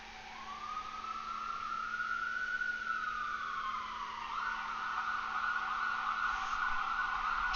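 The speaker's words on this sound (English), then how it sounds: "Sirens." An emergency vehicle siren wails in a long rising and falling sweep, then shifts to a higher steady tone, fairly distant and alone with no talk.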